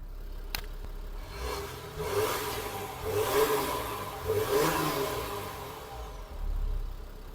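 An Audi A5 3.0 TDI diesel with its stock, unmodified exhaust revs several times in quick succession, each rise swelling to a throaty growl and falling back to idle, fairly faint at a moderate distance.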